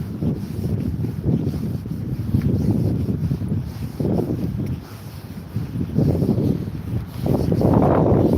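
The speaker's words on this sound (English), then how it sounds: "wild windy coast of Withernsea" Strong gusting wind on the North Sea coast at Withernsea, East Yorkshire, buffets the microphone in waves, roaring and easing over several seconds, with no voices.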